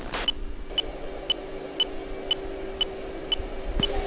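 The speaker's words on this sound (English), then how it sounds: "I don't know what that beeping is" Warning tone in an F-18 cockpit in the Falcon BMS flight simulator: a faint, evenly spaced series of short electronic beeps, about two per second, over a low steady background hum.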